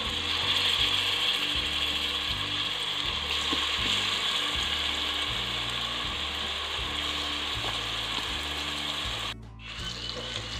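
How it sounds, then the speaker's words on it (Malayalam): Chicken pieces frying in coconut oil in a pan give a steady, dense sizzle that runs throughout, nearby and fairly loud, over a repeating mechanical ratcheting hum, with a brief dip near the end. "ചിക്കൻ ഇനി ഫ്രൈ ചെയ്തെടുക്കുക."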